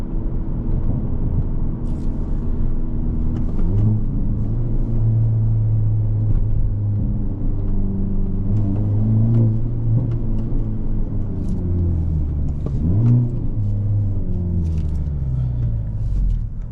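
A 2022 Hyundai Elantra N with a manual gearbox driving on the road, its engine droning steadily with rising and falling revs over a constant low cabin rumble.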